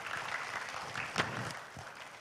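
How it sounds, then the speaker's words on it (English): Faint, distant applause rises from a conference audience at the Third International Conference on Maritime Development, a soft, diffuse patter lasting a couple of seconds. "Let's give applause."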